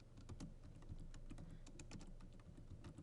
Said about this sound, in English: I'm pushing Control S on my keyboard.